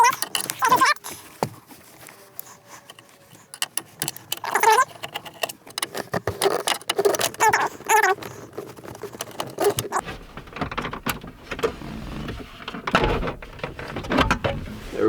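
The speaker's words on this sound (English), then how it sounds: "So just take these screws out and then take this whole plate off." A Phillips screwdriver backs screws out of a plastic plate on a Jeep Cherokee XJ, with sharp close clicks, ticks and light rattles in an irregular run throughout.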